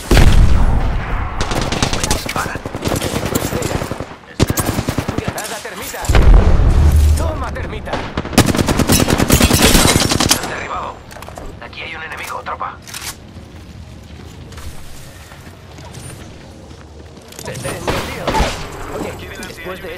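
Bursts of loud gunfire from Apex Legends, with rapid weapon volleys and heavy booms in the first half, then quieter, more distant shots later. Voices talk over the action.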